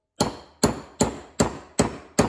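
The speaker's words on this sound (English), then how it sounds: "I'm going to have to tap in this spring pin into the bore." A hammer taps a spring pin into a bore during a John Deere 47-inch snowblower rebuild: six sharp, evenly spaced metallic strikes, each ringing briefly before the next, close up with no talking.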